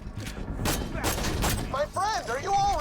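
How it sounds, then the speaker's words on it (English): Explosions and gunfire in the video game Borderlands 2, several short bursts and booms in quick succession, with people talking over them. "Explosions coming from the lighthouse."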